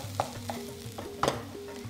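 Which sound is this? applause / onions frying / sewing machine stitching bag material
onions frying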